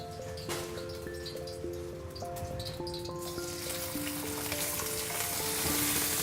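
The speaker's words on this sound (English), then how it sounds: "roughly 70 ml of vegetable cooking oil into the wok. And immediately next to that, I'll put some onions." Onions sizzle in roughly 70 ml of vegetable oil in a wok for a stir fry. A soft, crackling fry starts quiet and builds into a brighter, louder hiss toward the end, with faint musical tones underneath.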